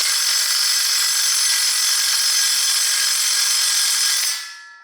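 A Hitachi cordless power tool running on a freshly charged battery in an engine-repair shop, a steady high-pitched whine held at constant loudness before winding down and stopping at the end.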